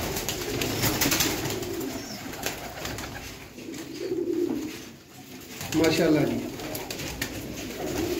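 Pigeons cooing in soft, low, repeated murmurs at a pigeon loft, recurring in swells beneath a voice talking over them.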